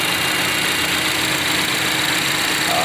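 A 2015 Chevy Equinox 2.4 liter Ecotec engine idles steadily with a smooth, even rumble and light mechanical hum, close by and without any voices.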